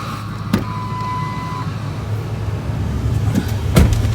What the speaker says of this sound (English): Last ride in the truck.